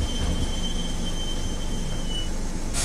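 Train wheels grinding and squealing along the Gudivada line track near Vijayawada, a steady, continuous rumble with a thin high whine running through it, close and fairly loud, with no voices.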